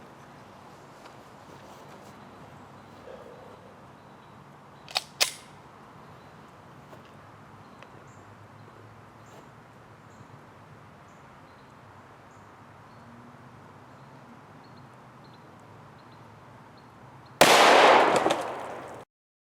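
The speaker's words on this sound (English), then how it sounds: "I'm going to be shooting it at a distance of 7 yards with Underwood ammo, 140 grain extreme penetrators." A .40 S&W pistol fired at 7 yards with Underwood 140-grain extreme penetrator ammo: after a quiet stretch with a few faint clicks, a single loud, sharp shot bursts out near the end.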